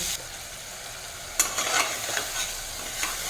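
Chicken fries in a pan with a soft, steady sizzle for a chicken and ash gourd dish. From about halfway, scraping stirring strokes come in short bursts over the frying, with no talk.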